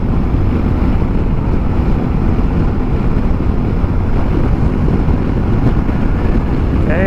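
A Yamaha Tenere 700 motorcycle runs at highway speed, heard as a loud, constant roar of wind buffeting the microphone over a steady low engine drone, with no voices.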